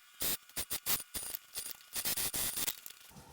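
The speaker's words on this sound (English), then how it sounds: "I'm going to sew this side of the webbing the exact same way I sewed this side" A sewing machine stitching webbing onto a tote bag, loud mechanical bursts of needle running in short irregular spurts, close up.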